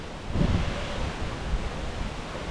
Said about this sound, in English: Getting very windy indeed.